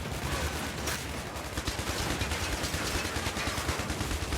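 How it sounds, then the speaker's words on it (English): Rapid bursts of gunfire aimed at an approaching raft in the video game IS Defense, a dense, continuous rattle of automatic shots filling the whole stretch with no talk. "I can also gun down that raft before it gets here"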